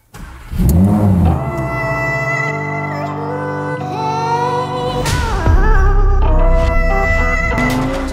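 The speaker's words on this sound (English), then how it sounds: "we still have the glorious naturally aspirated V10 engine" A 2019 Audi R8 Spyder facelift's naturally aspirated V10 starts up and revs hard: a loud, close bark rises and settles into a steady idle, then a few sharp throttle blips near the end, with no voices.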